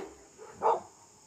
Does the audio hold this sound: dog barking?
yes